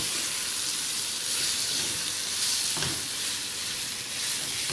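Minced beef or mutton keema fries in a pan, browning until it turns pale, with a steady close sizzle and hiss broken by a brief stir-like rustle partway through.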